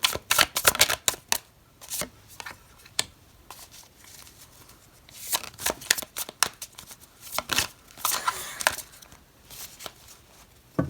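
Tarot cards being shuffled by hand, with bursts of crisp riffling and slapping that start and stop irregularly over several seconds, close and clear without talk.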